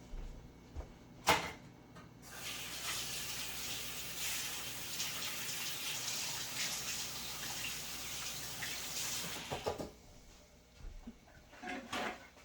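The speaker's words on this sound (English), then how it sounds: "Now I'm going to wash my hands." A kitchen tap runs as hands are washed after preparing walnut-crusted pollock, a steady close gush of water lasting about eight seconds between a few clunks, then shutting off to quiet handling sounds.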